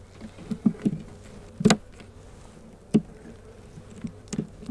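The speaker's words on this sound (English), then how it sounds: "So the bees to me look a little lethargic too." Honey bees in an open hive during a colony split, some appearing lethargic, give a low hum broken by brief, close buzzing passes, one louder fly-by standing out near the middle.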